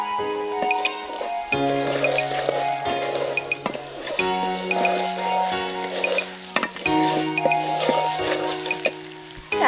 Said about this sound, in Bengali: ডালটা আমাদের মোটামুটি ভাজা হয়ে গেছে